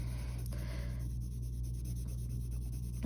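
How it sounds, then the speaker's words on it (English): A colored pencil scratches across paper in light, repeated strokes, close and quiet against a steady low hum. "Okay, so I'm kind of lightening up on the pencil"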